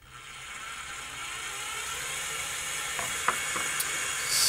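A bread machine motor runs at full speed under a motor controller, giving a steady, fairly quiet whir with a faint hiss and a few small clicks near the end.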